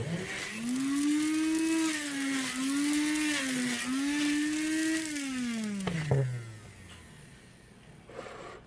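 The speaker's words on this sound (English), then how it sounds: "I'm mixing it up in the grinder because that is going to be more effective at completely mixing it than I would by hand in a bowl" A small electric grinder whirs as it blends homemade jalapeno garlic powder, a steady motor hum that rises and falls slightly in pitch for about six seconds before winding down and stopping.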